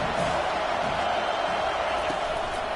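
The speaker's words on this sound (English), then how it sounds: "This crowd bringing the energy and noise early." Dense, roaring crowd noise fills a stadium during a college football game, a steady wall of cheering voices with no break, heard close and loud.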